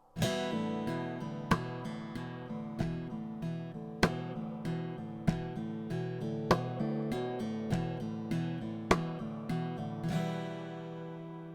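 Plucked acoustic guitar chords with sharp percussive thumps on the body landing in a steady rhythm, close and fairly loud, ending on a ringing strum.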